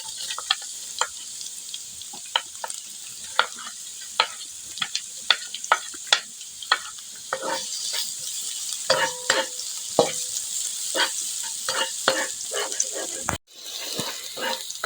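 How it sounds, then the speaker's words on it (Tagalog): Chopped onion goes into garlic already frying in a pan for meatless spaghetti, giving a continuous close sizzle with frequent clattering stirs and scrapes. A brief dropout comes near the end, and no one speaks. "Isunod na natin yung ating sibuyas."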